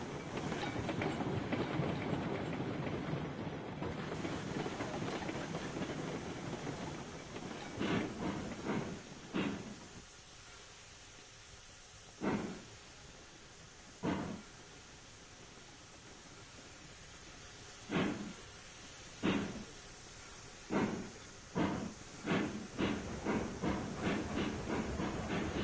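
A steam locomotive in the railroad game Railroads Online. Steady hissing and rumbling at first, then a series of sharp chuffs or bursts that come closer together toward the end, at moderate volume with no talk.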